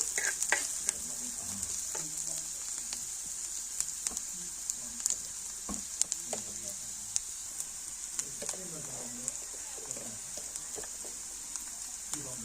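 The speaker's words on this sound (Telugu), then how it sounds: "బాగా ఎర్రగా వేగనిచ్చాం అల్లం వెల్లుల్లి పేస్ట్ వేసుకున్నామండి" Ginger garlic paste sizzles and fries steadily in a pan, a continuous frying hiss broken by occasional stirring scrapes and clinks, fairly close and moderately loud.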